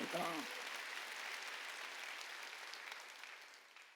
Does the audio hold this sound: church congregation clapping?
yes